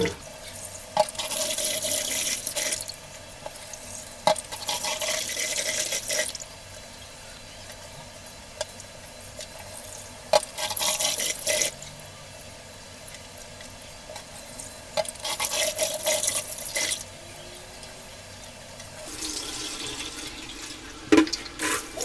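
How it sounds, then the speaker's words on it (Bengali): Rice being washed in water by rubbing, heard as repeated bursts of splashing and sloshing close by. The water noise comes in several spells separated by quieter pauses, with occasional knocks of a pot. "এখন চালটাকে অনেক সুন্দর করে কষলে কষলে ধুয়ে নিয়েছি"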